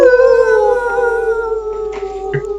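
A man gives a long, loud howl as a battle cry, imitating a wolf with a sustained, slowly falling tone, close and alone.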